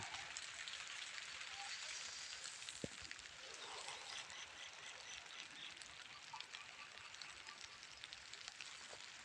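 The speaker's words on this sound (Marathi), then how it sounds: "पाऊस थोडा थोडा येतोय हो. टिपकं येत आहेत मित्रांनो" Light rain pattering softly and steadily on a surface, faint and continuous, with a single sharp tick partway through.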